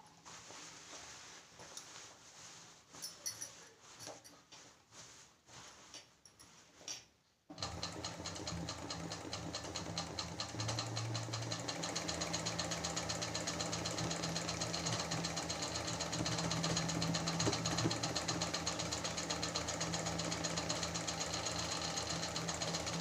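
A sewing machine stitches embroidery work onto a garment sleeve. After a few quieter seconds of faint handling, its steady, loud, close motor whirr and rapid needle chatter run without a break to the end.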